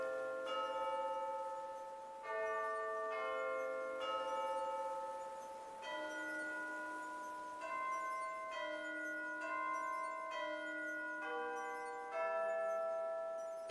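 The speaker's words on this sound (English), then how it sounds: "Yeah, that's my bell tone." Bell tone chime from the Animal Crossing New Horizons video game, a soft melodic sequence of clear bell notes repeating in short phrases, moderately quiet with no speech over it.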